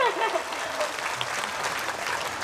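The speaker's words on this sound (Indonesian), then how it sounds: "Ayo boleh berikan tepuk tangan dulu." Audience applause during a religious talk in Taiwan, a soft continuous patter of many hands clapping, moderately distant and even, with faint voices mixed underneath.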